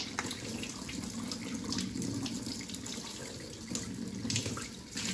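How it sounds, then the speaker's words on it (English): Water runs steadily from a kitchen-style faucet, a soft continuous hiss and splash with slight fluctuations, fairly quiet and heard on its own without any talking. "So right now I'm just going to pass water through this"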